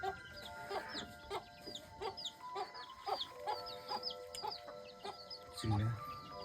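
Hens and roosters in a coop give repeated clucks and short calls at a steady pace throughout, fairly close, with a brief low voice near the end.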